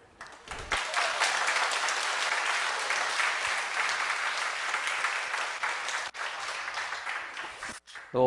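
A church congregation at a Korean revival service claps together in sustained, dense applause that fills nearly the whole stretch, steady and loud before dropping off at the end.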